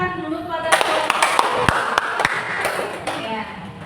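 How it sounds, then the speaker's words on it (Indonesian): Classroom applause, a short burst of scattered hand claps from a group of students, mixed with people talking. "ini tepuk tangan dulu"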